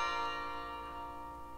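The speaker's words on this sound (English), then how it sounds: "it sounds like bells" A ringing bell sustains a rich, shimmering metallic tone that slowly fades, heard alone and fairly soft in a Christmas musical setting.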